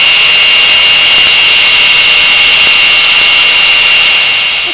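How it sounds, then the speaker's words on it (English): Hand grinder working a knife blade, a loud steady high-pitched whine with a constant tone throughout, close up and alone, easing slightly at the end. "I've done a little more grinding to it using my hand grinder over there."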